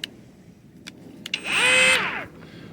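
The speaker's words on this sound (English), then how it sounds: "You got the crazy Dremel though." A Dremel rotary tool cuts into an exhaust pipe, a few short taps and clicks and then one high whining burst of about half a second that rises and winds back down, close and alone.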